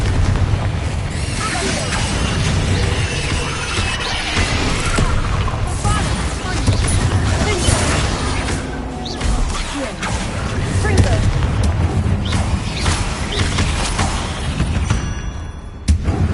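Confringo blasting spell detonating in the video game Hogwarts Legacy, a dense run of loud booming explosions and crackling blasts through combat, with bursts piling on each other amid game noise and brief voices.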